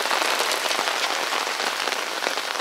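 Heavy rain pours down steadily in Sudak, Crimea, a dense, loud hiss of drops drumming on surfaces with no pauses and no voices.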